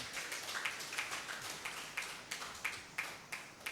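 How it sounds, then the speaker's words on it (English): Applause from a seminar audience, a steady wash of many hands clapping with sharper claps popping out roughly every third of a second, moderately loud and continuous without speech. "Another rounding applause for Kayode Fashion."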